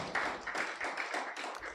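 Scattered clapping from a small audience at a business panel event, fairly soft and uneven, with light rhythmic claps rising and fading over a couple of seconds.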